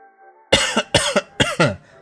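Two quick pairs of sharp coughs, close and loud, following a faint musical background.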